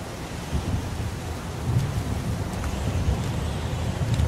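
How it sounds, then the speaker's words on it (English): Heavy rain pours steadily with low rumbling thunder rolling underneath, a dense, continuous wash of sound, in the video game Heavy Rain. "It's pouring rain."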